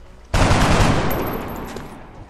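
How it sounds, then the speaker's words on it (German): A single loud, sustained blast of gunfire in the turn-based strategy game XCOM: Enemy Within, bursting in abruptly and slowly decaying over about two seconds, with a thin high whine near the end and no talking. "ich könnte jetzt einfach mal drauf schießen aus Spaß"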